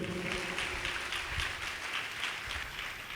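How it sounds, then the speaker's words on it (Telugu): A church congregation claps together, a dense steady wash of applause that fills the room at an even loudness throughout. "అందరూ సంతోషంగా చప్పట్లు కొట్టి దేవుని మహిమపరచండి"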